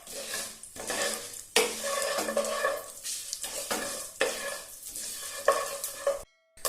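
Sambar being stirred in a pan right after asafoetida powder is added, a steady scraping stir over a soft sizzle of frying, continuous and close, with a brief drop to silence near the end.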